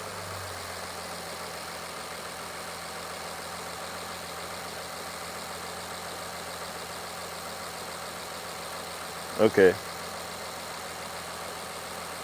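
A Mercedes-Benz GLS 450 with a long-crank-before-start fault idles with a steady, even low hum throughout, and a voice speaks briefly near the end.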